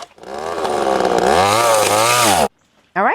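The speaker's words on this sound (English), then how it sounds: "We're going to try to use the chainsaw to do the edges" A chainsaw revs loud and close, its engine pitch rising and wavering as it cuts the edges of wood at a gate installation, then cuts out before briefly restarting.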